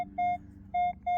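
A Minelab Pro Finder 35 metal detector sounds steady electronic beeps over a target, four short clear tones in an uneven pattern, close and alone.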